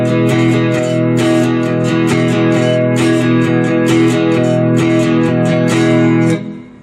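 Rapid strumming on a four-string cigar box guitar, a steady stream of bright downstrokes ringing together for about six seconds before stopping, played alone with no voices.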